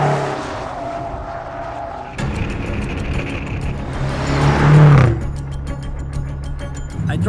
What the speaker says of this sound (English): I drive the car in the racetrack fast. I mean, really fast.